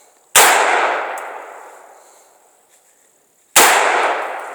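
An AR-15 fired at a steel target, giving two loud, sharp shot-and-ring impacts about three seconds apart, each followed by a long metallic decay, and no voices.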